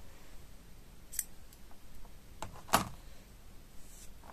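Scissors snip crochet yarn in a quiet room, two or three brief close cuts with one sharper snip near the middle.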